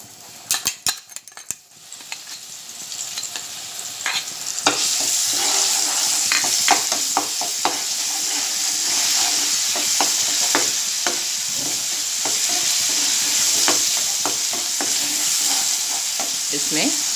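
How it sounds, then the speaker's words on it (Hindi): Green masala hits hot oil in a frying pan: a few metallic clinks, then a sudden loud sizzle that holds steady, broken by repeated scrapes and taps of a stirring utensil. "अब मैं तेल में हरा मसाला"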